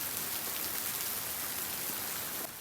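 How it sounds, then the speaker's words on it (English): Heavy rain pours down steadily outdoors, a dense close hiss of drops on surfaces that holds constant and eases slightly at the very end, with no voices. "it's coming down pretty hard"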